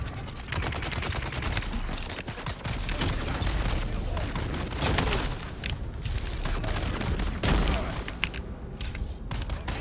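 Dense gunfire in Dune: Awakening, sustained bursts and heavy thuds that hardly let up across the stretch, loud and close, with a voice now and then.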